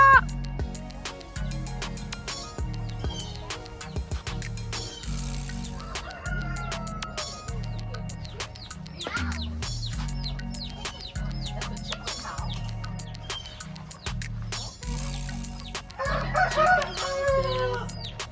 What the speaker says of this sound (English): We got chicken.